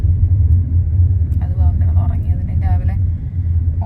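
A bus engine rumbles low and steady during a ride on the way back from Phuket, a constant deep drone throughout, with people talking over it in the middle.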